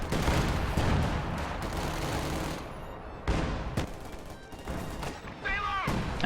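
Gunfire and artillery in a strategy video game match, an ML-20 gun firing on a command tank: repeated sharp loud blasts with rumbling tails amid continuous battle noise and scattered shots.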